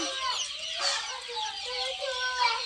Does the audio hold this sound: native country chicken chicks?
yes